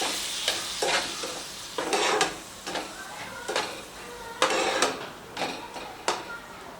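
Egg masala for a street-style egg karishma being stirred in a pan after a splash of water, with bursts of loud sizzling and repeated scraping strokes of a spoon, close and uneven in rhythm.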